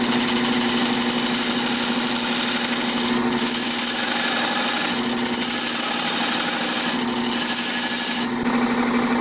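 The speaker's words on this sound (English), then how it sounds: "now I'm going to turn this 2 1/8 inch hole in the front" Wood lathe turning a 2 1/8 inch hole into the front of a wooden lighthouse piece: a steady motor hum with continuous scraping and rubbing of the tool against the spinning wood, loud and close, a few brief dips.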